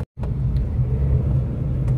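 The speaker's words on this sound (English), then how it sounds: "today we can see a lot of traffic on the road" Dense road traffic at a jammed junction in Bangalore: a continuous low rumble of idling and crawling vehicles, steady and close, with faint higher noise drifting in and no talking.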